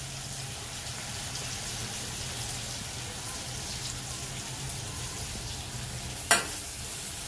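Turmeric and lemon juice frying in hot oil for kanda poha make a steady, soft crackling sizzle close by throughout, with one brief sharp click or clatter near the end.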